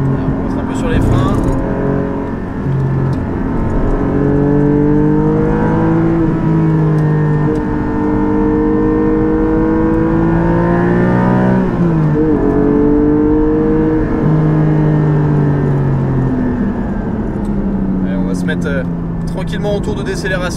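Porsche 718 GT4 fitted with an Akrapovic exhaust accelerating hard on the Spa-Francorchamps circuit, a loud, sustained engine note rising through the revs, close and continuous, with some talk over it.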